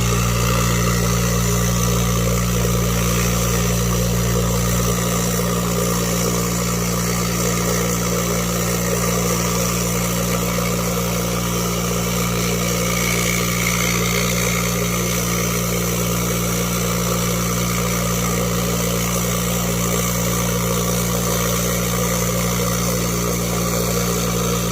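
A Lot-O rock tumbler running with polish grit gives a loud, continuous mechanical hum with a steady low drone and a faint rolling texture, unchanging throughout.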